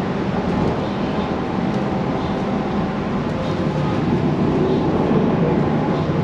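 Steady, loud rumble of a train or metro car in motion on a ride through Bangkok, a continuous rolling roar with faint rattles throughout and no one speaking.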